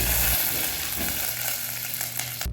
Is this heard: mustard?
yes